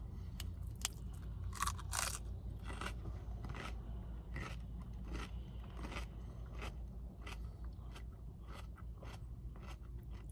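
Lettuce crunched and chewed close to the mic, a quiet series of crisp bites and wet chewing at an irregular pace, with no talking.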